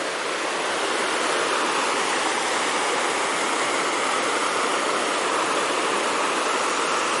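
A clear mountain creek near a bridge rushes in a loud, steady broadband wash that is close and continuous throughout, with no voices.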